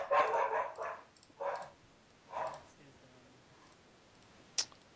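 A dog barking indoors in the background: a few loud barks in quick succession, then two more spaced barks before a sharp click near the end.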